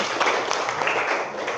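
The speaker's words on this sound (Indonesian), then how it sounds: "Terima kasih tepuk tangan untuk kita semuanya." Audience of students at a school counseling session applauding, a dense, steady burst of clapping that fills the short moment evenly before tapering slightly at the end.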